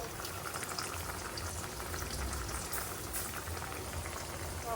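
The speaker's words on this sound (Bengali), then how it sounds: "ছেলের ডিম সিদ্ধ হচ্ছে" Eggs boil in a pot on the stove with a steady, dense bubbling and rolling, constant throughout and fairly close.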